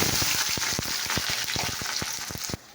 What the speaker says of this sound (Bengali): পেঁয়াজটা ভাজা হলো।